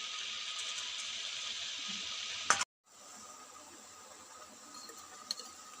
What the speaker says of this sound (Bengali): সরষে শাকটা ভেজে নিচ্ছি বন্ধুরা একটু নুন হলুদ দিলাম